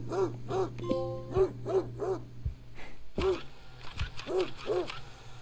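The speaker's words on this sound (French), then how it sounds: "j'entends que le chien il aboie là" Dog barking in the video game Greyhill Incident, a run of repeated sharp barks in bursts against a steady low background hum, with a brief pause midway before more barking.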